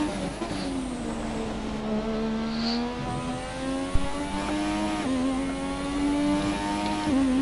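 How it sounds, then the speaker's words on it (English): A car engine revs and pulls while driving, its steady whining drone rising and falling through gear changes, loud and close, heard alone without talk. "No, it's a cool sounding car."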